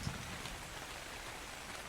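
Rain falls in the ARK Survival Evolved game world as a faint, steady wash of patter, soft and continuous without any talk.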